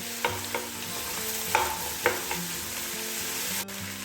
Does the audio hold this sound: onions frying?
yes